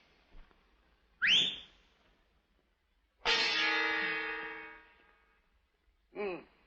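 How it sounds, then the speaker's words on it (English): A person whistles a few short sliding notes, each separated by silence, with a longer buzzy, distorted tone in the middle, heard clearly in a quiet 1941 film scene. "Can you whistle like this?"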